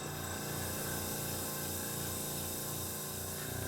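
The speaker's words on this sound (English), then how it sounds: "So let me just fire up our compressor." An airbrush compressor runs continuously with a steady mechanical hum and a rhythmic pulsing thump, fairly quiet and alone.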